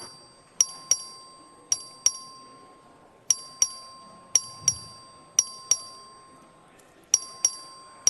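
Voting bell rung by the clerk in the Texas House chamber: a series of sharp, bright electronic dings in irregular pairs over about eight seconds, each decaying quickly above a faint steady tone and room hush.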